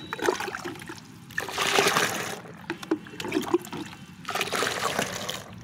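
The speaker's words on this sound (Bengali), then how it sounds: "নিয়ে এর সঙ্গে জল নিয়ে পাতলা করে মিশিয়ে নিতে হবে, একদম পাতলা করে দিতে হবে।" Water poured and swirled to thin plant fertilizer for petunias, trickling and splashing in several bursts, fairly close, with no talk.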